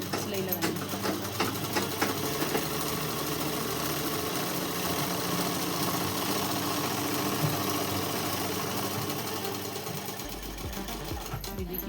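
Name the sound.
sewing machine stitching a shalwar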